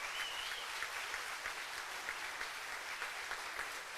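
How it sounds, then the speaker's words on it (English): An audience at a school steel band spring concert applauds the young players, a steady, dense wash of clapping that holds evenly for several seconds at moderate loudness. "Give them a round of applause"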